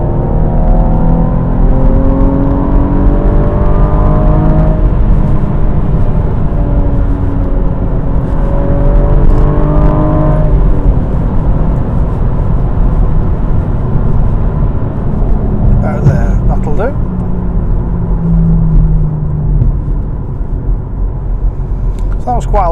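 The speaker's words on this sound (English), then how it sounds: "That was quite a long multiple vehicle overtake." A car engine loudly revs up through the gears while overtaking several vehicles on a Scottish road, its pitch climbing in repeated sweeps over constant heavy road and wind roar from inside the car.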